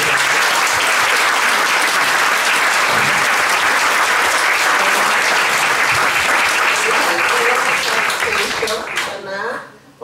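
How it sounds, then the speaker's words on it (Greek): Loud, warm applause from an audience at a public talk on seismic and volcanic activity in Santorini, dense and sustained clapping that tapers off at the end. "Θα ήθελα ένα θερμό χειροκρότημα για τους ομιλητές και τις ομιλίες."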